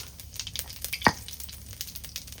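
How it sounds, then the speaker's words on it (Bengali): Cumin seeds tempering in hot oil for a country chicken curry, a soft steady sizzle with a few light crackles and one brief sharper pop, heard close up in a home kitchen on a rainy day. "হ্যাঁ, মাংসের জন্য ফোড়নে জিরে চলে গেল"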